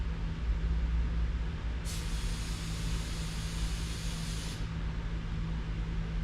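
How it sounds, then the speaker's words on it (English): A single hissing spray bursts on for about three seconds and then cuts off, sharp and fairly close, over a constant low mechanical hum. "Give it like a 3-second spray."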